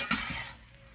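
Ground beef chili is turned over and stirred in a pan, a brief scrape and clatter of a utensil over a soft sizzle that fades within a second, close and quiet, without speech.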